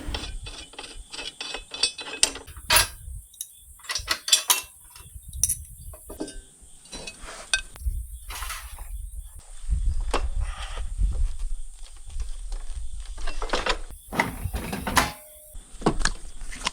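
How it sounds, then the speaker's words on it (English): Clamp or spacer being removed from the rear battery area of a lawn tractor during a LiFePO4 battery upgrade, with repeated ratcheting clicks and metallic clinks in close, intermittent bursts. "In order to get the batteries out more easily, I'm going to remove this clamp or spacer that's in the rear."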